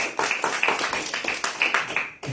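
A church congregation claps together in praise during a Spanish-language worship service, with steady rhythmic hand claps close by and no talking over them.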